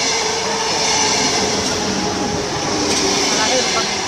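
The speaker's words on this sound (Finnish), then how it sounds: "Siellä se juna tulee" A train rumbles past close by, its wheels rattling and grinding steadily under a dense, loud roar, with voices faintly audible.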